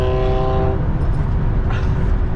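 A car with an aftermarket performance exhaust drives just ahead, its steady engine and exhaust drone loud and continuous with a brief tonal whine at the start, heard from a following vehicle.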